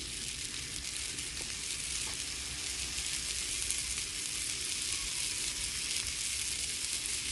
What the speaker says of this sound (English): we're going to take our jalapenos, and we've got them all right here on the stick, and we're just going to put them right here on the side